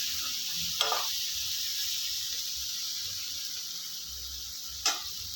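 Chili powder sizzles in hot oil while pepper garlic kulambu is being cooked, making a steady close hiss throughout, with two short scraping stirs, one early and one near the end.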